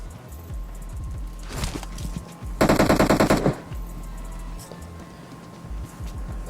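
Automatic gunfire in the mobile shooter game PUBG Mobile, a loud close burst of rapid shots lasting about a second amid game footsteps and lighter clicks, with no voices.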